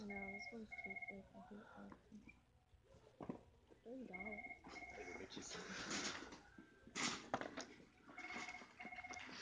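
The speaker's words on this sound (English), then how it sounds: "That phone won't shut up over there." Telephone ringing somewhere in a Walmart store, a repeated electronic ring pattern recurring at moderate distance amid store clatter, with people talking loudly and swearing nearby over it.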